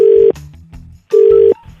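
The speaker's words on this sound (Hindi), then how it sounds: "किसी को रैंडम फोन करो यार, चलो मिलाओ" A telephone rings out on a radio prank call, two loud, clean, steady tones separated by a short gap, close and alone.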